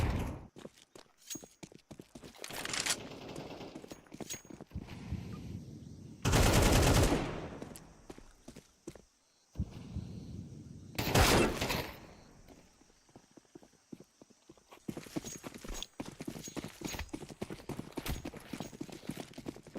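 Tec-9 pistol fire in a Counter-Strike match: rapid volleys of sharp, loud shots in irregular bursts, mixed with quick footsteps and scattered clicks, with a few brief pauses between exchanges.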